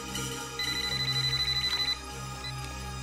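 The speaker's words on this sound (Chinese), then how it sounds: "爹，听电话先，阿爹。" A telephone rings in a Hong Kong action film scene, a rapid electronic trill that repeats in quick pulses for over a second and then stops, with faint background tone underneath.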